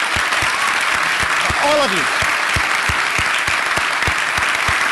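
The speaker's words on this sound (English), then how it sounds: "How about a big round of applause" Audience applause at a memorial gathering, continuous dense clapping with louder individual claps punctuating it, while a voice speaks briefly over the top.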